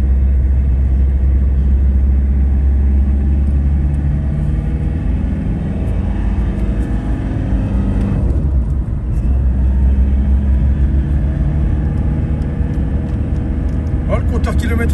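Renault Clio 1 engine running nearby, a steady low rumble that continues throughout while someone talks over it.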